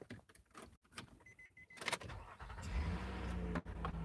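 A car engine cranked and caught: scattered clicks and movement first, then the starter whir and the engine firing into a low steady idle, close and fairly quiet.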